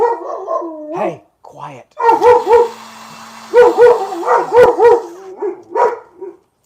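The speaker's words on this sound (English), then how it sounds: "We're getting ready to have a dog barking contest here." Dogs bark indoors at something outside, loud and close, in repeated bursts of several sharp barks with short gaps, while a person briefly speaks over them to hush them.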